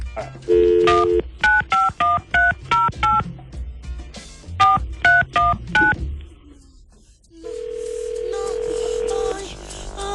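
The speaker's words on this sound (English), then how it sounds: "Let's call her and see if she's answering the phone this time." A touch-tone telephone number is dialed as a quick run of short beeps in two bursts, followed by a steady tone on the line.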